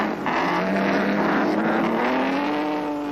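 1930s Grand Prix racing cars, Mercedes and an Alfa Romeo, racing side by side at Monaco, a loud continuous engine roar with rising pitch as they accelerate, close and without speech.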